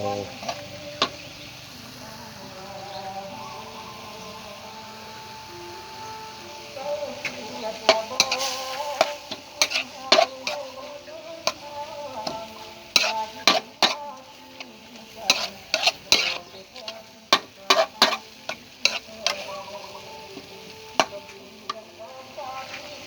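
Pork with holy basil leaves stir-fries in a pan, with a low sizzle under repeated sharp clacks and scrapes of a spatula that grow busier and louder toward the end, close-up and without talking.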